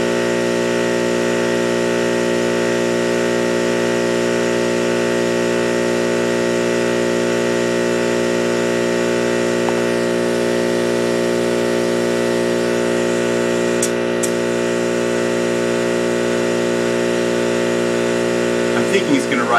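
A 1975 Ford Bronco drives on new, unbalanced 32x11.50x15 Goodrich all-terrain tires, producing a steady, close drone of engine and road hum with a constant harmonic whine throughout and no talking.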